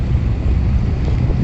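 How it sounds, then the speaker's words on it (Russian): Steady wind roars across the microphone outdoors on a ferry crossing the Vilyuy River, a constant low rumble with no speech. "Ветер свеженький колышет"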